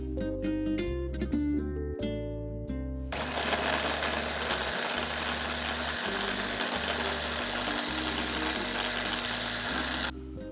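A Fakir kitchen appliance mixes salad dressing ingredients: after a brief musical opening, a loud, steady motor whir runs for several seconds with a low rhythmic thumping underneath, then cuts off.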